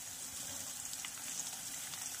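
Finely chopped green chillies and chopped onion fry in a pan with a steady, soft sizzle that holds evenly throughout, fairly quiet with no voices.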